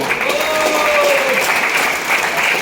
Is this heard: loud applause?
yes